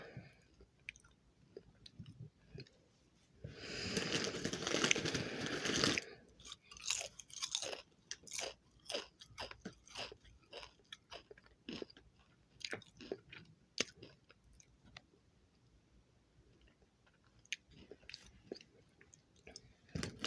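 A person sits chewing and crunching food up close, a burst of loud rustling or crunching early on, then steady rhythmic bites and crunches continuing alone for the rest of the stretch.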